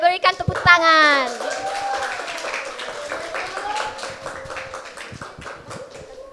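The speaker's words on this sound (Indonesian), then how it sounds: "Berikan tepuk tangan." Children clap for two guest speakers in a grade 5 classroom, a scattered burst of claps at the start under a voice, then talking continues with occasional taps.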